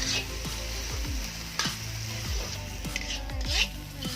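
Mutton curry stirred in a pot, with steady sizzling and frying and repeated scraping strokes of a spoon through the thick mixture, close and continuous with no talking.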